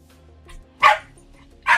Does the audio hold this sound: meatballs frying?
no